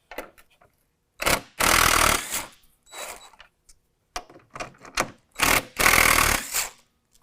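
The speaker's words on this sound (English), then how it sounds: "these 2 bolts right here have to come out using a 10 millimeter" Headlight housing bolts being driven out with a 10 millimeter tool, a series of loud, close mechanical bursts of about a second each, separated by brief pauses and lighter clicks and rattles.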